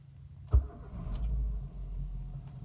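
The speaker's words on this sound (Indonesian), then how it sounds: "Kita hidupkan mesin," A Daihatsu Terios-type SUV engine, cold in the morning after an oil change, cranks with a sharp catch and settles into a low, quiet idle rumble.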